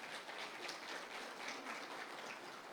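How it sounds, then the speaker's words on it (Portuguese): A church congregation applauds during a Baptist Sunday service, a faint, steady patter of many hands clapping together at a distance, with no voices. "Aplauda ao Senhor, em nome de Jesus."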